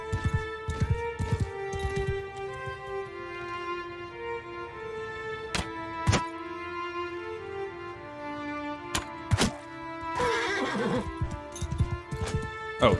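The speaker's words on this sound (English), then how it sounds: "they hit the horse with a rock. I was wondering why it suddenly made noise." A horse in a video game neighs after being struck by a rock, loud whinnies over steady hoof clip-clops and background game ambience, with sharp impact sounds scattered throughout.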